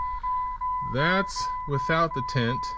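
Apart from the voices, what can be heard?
Jeep WJ key-in-ignition warning chime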